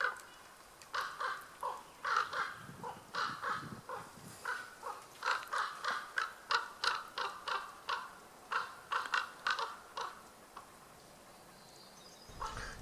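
Ravens give repeated loud, harsh caws in a steady series of bursts while confronting an eagle, close by and with no voices.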